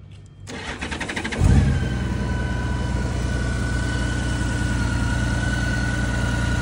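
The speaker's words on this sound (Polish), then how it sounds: "Posłuchajcie, jak pracuje silnik." A 2016 Honda Goldwing GL1800 motorcycle engine fires up after a short crank and settles into a loud, steady idle with an even, throbbing rumble.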